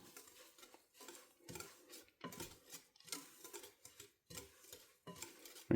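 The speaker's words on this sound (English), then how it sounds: "Then I'm going to whisk everything together." Pumpkin-spice brownie batter is whisked in a bowl, with a steady run of quick scraping, tapping strokes in short bursts and no talking.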